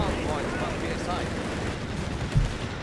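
Chaotic battle din from Company of Heroes 3, with dense overlapping gunfire and rumbling explosions as Shermans and a Panzer IV fight, steady and loud with a heavier thump near the end, under a commentator's voice.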